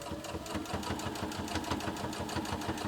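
A home sewing machine runs a decorative stitch around the edge of a homemade makeup wipe in white thread, its fast, steady mechanical chatter continuous and close throughout with no talking.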